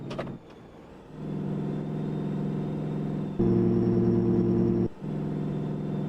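Heavy five-trailer road train truck engine in American Truck Simulator pulling a roughly 150-ton load, a loud steady diesel drone that rises in pitch and volume midway, then drops back to a sustained rumble.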